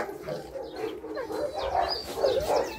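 Training dogs barking and whining during attack training, a run of short, close barks and whimpers that grow more insistent toward the end.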